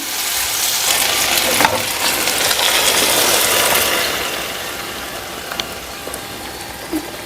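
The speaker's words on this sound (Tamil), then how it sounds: "ஈரம் இருக்கிறதுனால அப்படி சரசரன்னு ஒரே சவுண்டாக இருக்குது" Moist, freshly sautéed ingredients hitting hot oil in a pan for a South Indian kuzhambu, crackling in a loud, dense, rain-like sizzle that eases off midway, with a few small clinks of stirring.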